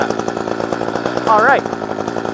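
A chainsaw with its decompression switch and choke on runs loud and close, its engine buzz steady with a brief revving rise, while someone speaks briefly over it.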